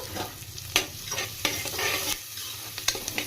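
A tempering for hotel-style mixed dal fry sizzles in ghee on medium flame, with a spoon scraping and stirring in brisk, uneven strokes over a continuous crackle, close and loud.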